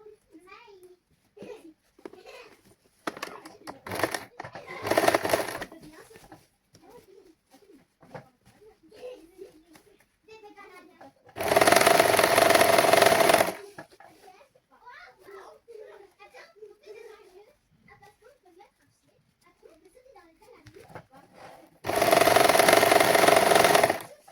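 A sewing machine stitching a border on a garment runs in two loud steady whirring bursts of about two seconds each, separated by stretches of children's chatter and household sounds.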